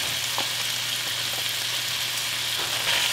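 Dried thyme and curry powder sizzle and fry in a hot pot, giving a steady close hiss with a few faint stirring scrapes and no talk.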